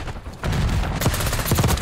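Rapid bursts of AS VAL suppressed rifle fire in Black Ops 6, loud and close, a brief lull then a dense stream of shots with no talk.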